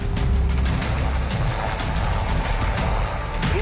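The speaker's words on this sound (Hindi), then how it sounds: "चिनूक और रुद्र हेलीकॉप्टर" Chinook and Rudra military helicopters flying, heard as a loud, steady broadband engine and rotor roar that runs without a break and stays close.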